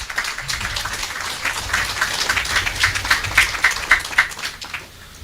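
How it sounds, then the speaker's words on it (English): An audience at a police station opening in Lacovia claps for the commissioner, a moderate burst of many hands that swells to a rhythmic peak, then fades within a few seconds. "Give him a big round of applause."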